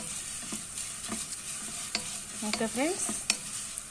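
Vermicelli frying in a pan, a soft steady sizzle with scattered stirring scrapes and clinks of a utensil against the pan; a voice speaks briefly near the start.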